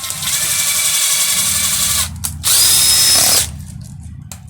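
Power drill whining steadily as it drives a 3-inch screw straight down through the center of a new raised bed, loud and close, with a brief pause before a higher-pitched final burst.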